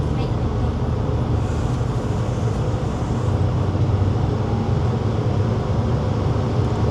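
A diesel sightseeing train pulls out of Hakata station in Japan with a steady, loud low engine rumble and rolling drone that holds evenly throughout.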